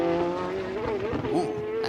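A Corvette C8 race car in DXDT livery runs a qualifying lap at Circuit of The Americas, its engine a loud, steady drone with pitch swells and a brief tire squeal, while a commentator talks over it.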